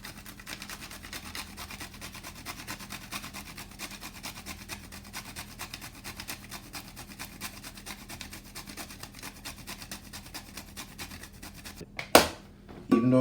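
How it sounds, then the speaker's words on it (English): Nutmeg being grated for a green plantain and oats porridge, a faint, steady scraping rasp of rapid strokes running for several seconds, ending with a couple of louder knocks. "grate some nutmeg"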